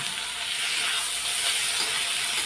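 Tomatoes dropped into hot oil with frying onion, chilli powder, cumin powder and turmeric, a loud, continuous hissing sizzle close to the pan with no talk.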